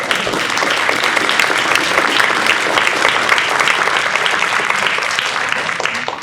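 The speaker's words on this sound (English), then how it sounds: "So if you are a facilitator, please stand up. Give them a round of applause." A large room of curriculum leaders breaks into loud, sustained applause for standing facilitators, a dense, even wash of many hands clapping that holds for several seconds before easing off.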